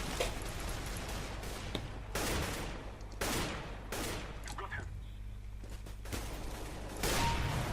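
Gunfire in Counter-Strike: Global Offensive, repeated bursts of sharp shots in clusters, loud and near, with a voice talking intermittently.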